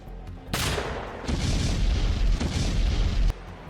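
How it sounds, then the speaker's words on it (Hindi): Grenade blasts in war footage from the fighting in Ukraine: a sudden loud, close boom swells into a dense, rumbling roar that holds for about three seconds before cutting off abruptly. "चाहे धमाकों से दहलाते ग्रेनेड हमले हों"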